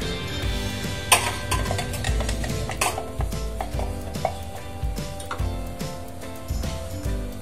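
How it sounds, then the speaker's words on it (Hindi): Mango puree being scraped and transferred into a heated pan, with clinking of a metal spoon against cookware, scraping strokes and a light sizzle in irregular bursts, no voices. "अब मैंने जो प्यूरी बनाया था उसे हम इस पे ट्रांसफर कर देंगे।"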